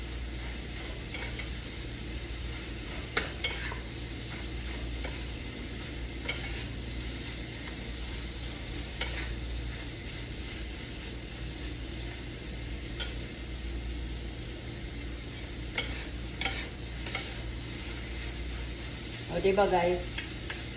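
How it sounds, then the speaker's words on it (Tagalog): Onion fries in a little olive oil with a steady, close sizzle throughout. A few stirring clatters sound over it, and a short spoken remark comes near the end. "Kaunting olive oil lang nilagay ko. Maluto lang yung onion."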